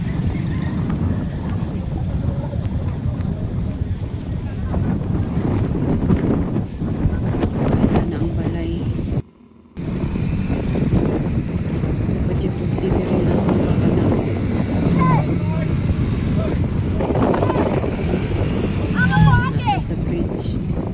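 Strong typhoon wind batters the microphone outdoors near rushing floodwater, a loud continuous roar with gusting buffets throughout and a brief dropout midway, while people talk over it.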